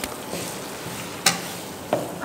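Oily ingredients for a patrapottali herbal leaf bundle being stirred and mixed by hand, a soft continuous wet rustle with a couple of brief louder scrapes, close and alone.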